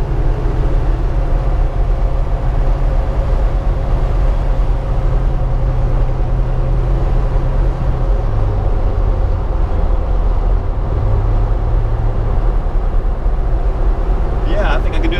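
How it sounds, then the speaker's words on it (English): A 1984 Chevrolet Suburban turbo diesel is driven on the road. Its engine makes a continuous low drone heard from inside the cab, and the pitch shifts partway through as the engine speed changes. "Daily driving an 84 Suburban diesel."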